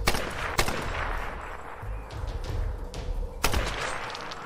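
Two sharp gunshots crack in Tomb Raider, one early and one near the end, loud and close against a dense, rumbling bed of game ambience and distant noise.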